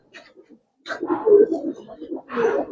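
Lal Patti pigeons cooing in a market pen, a few soft bursts followed by a longer, throaty rolling coo, close and moderately loud with background murmur.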